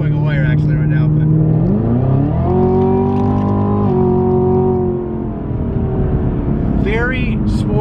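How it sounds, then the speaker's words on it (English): A Chevrolet Camaro SS or ZL1 fitted with a Borla ATAK catback exhaust, a loud deep idle rising into sustained revs, holding high, easing off, then a quick blip, recorded up close. "very sporty exhaust note. Sounds incredible. It's extremely loud on the outside."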